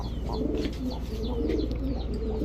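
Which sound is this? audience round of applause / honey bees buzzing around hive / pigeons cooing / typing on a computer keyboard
pigeons cooing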